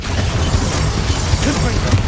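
A Confringo spell explodes in Hogwarts Legacy, a loud, dense blast that rumbles and crackles for about two seconds, close and sustained, with speech faintly mixed in.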